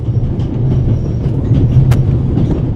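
A train in The Raven Remastered game: a steady, close interior rumble of rolling carriages, continuous and even throughout, with no voices.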